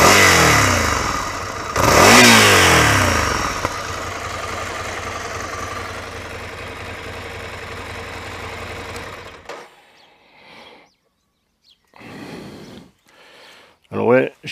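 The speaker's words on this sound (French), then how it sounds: "j'en profite que le moteur tourne pour vous faire entendre le pot" A Ducati Scrambler 800 Icon engine runs through its aluminium alloy exhaust, a loud, close, steady mechanical idle with a brief rev, before cutting away to quieter stretches with bursts of talk.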